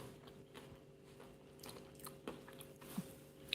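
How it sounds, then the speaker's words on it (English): Someone bites into and chews a crunchy fried spring roll, giving a few faint, close crackling crunches spread unevenly over a few seconds, with no talking. "Wow, that is crunchy."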